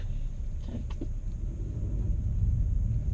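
A steady low rumble of a 2017 Honda Civic hatchback engine running in econ mode fills the clip, with a couple of brief higher mechanical whirs early on.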